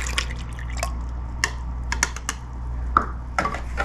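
Milk splashing into a bowl of banana nut muffin mix, a run of close, sharp drips and splatters scattered over a quiet background hum.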